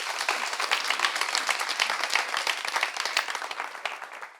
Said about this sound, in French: Merci, on peut l'applaudir s'il vous plaît.